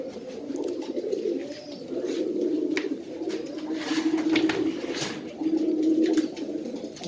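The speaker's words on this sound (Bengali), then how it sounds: "আপনার পাঙ্খি কবুতর যেগুলি আছে অরিজিনাল পাঙ্খি ব্লাড লাইনের কবুতর আছে" Pankhi breed pigeons in cages coo in repeated low, throaty rolls, several soft phrases one after another, close by with faint rustling and no talking.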